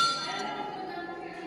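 A temple bell at the Bharat Mata temple in Deogiri fort gives a single ringing strike that decays softly over a quiet background.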